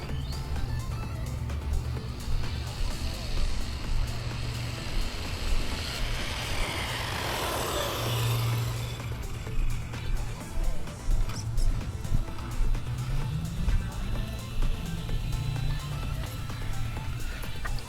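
RC car racing at full throttle in a speed run, its small electric motor whining and tyres pattering over the ground, the pitch rising and falling as it passes by, fairly loud with steady background noise.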